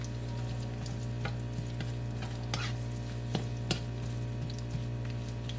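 Garlic and onion sautéing in oil in a pan for green beans, a steady sizzle over a low hum, with occasional scrapes and taps of a spatula stirring.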